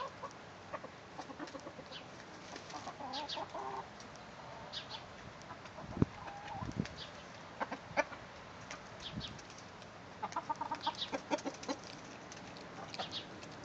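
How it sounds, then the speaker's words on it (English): Silkie and Australorp chickens cluck and murmur steadily at moderate distance, with occasional louder squawks and some rustling in a barn-like space. "these are silky chickens and Australorps, which are what we have out in the side of the barn"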